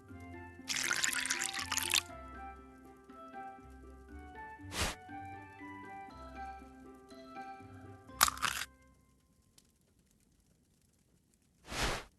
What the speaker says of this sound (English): To make the pie dough, add together flour, eggs, butter, sugar and milk in a bowl.